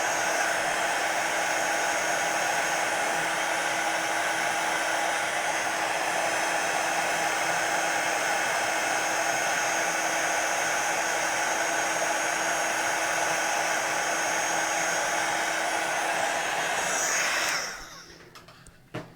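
A heat embossing tool blows hot air over embossing powder, a loud continuous whirring hum held steady for about seventeen seconds before it switches off and winds down.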